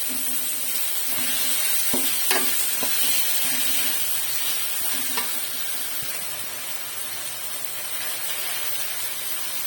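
Cut vegetables sauté with coarse salt in a pan for a hotel-style vegetable white kurma, a steady soft sizzle broken by a few sharp clinks and scrapes of a spoon stirring against the pan.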